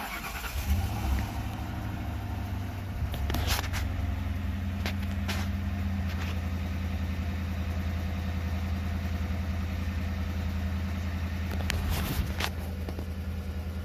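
A 2004 Ford Crown Victoria police car engine cranks and catches, then settles into a steady low idle with a faint rev, heard close and alone with a few clicks and knocks.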